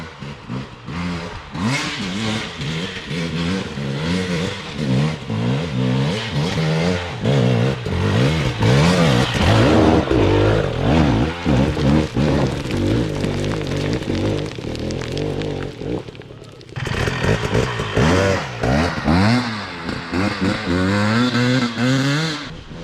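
A 2022 Husqvarna TE 300i dirt bike engine revs hard and steadily while riding, its pitch rising and falling through gear changes, loud and close, with a brief dip near the end before it roars again.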